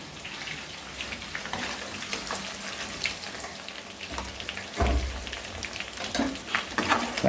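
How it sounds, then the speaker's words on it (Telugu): Chicken pakoda pieces frying in hot oil, a steady dense sizzle with bubbling crackle throughout, stirred now and then, with a louder burst of frying near the middle. "ఇందులో వేసి ఫ్రై చేసుకోవాలి"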